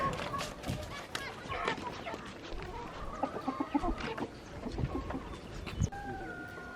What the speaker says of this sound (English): There's so many chicken out here.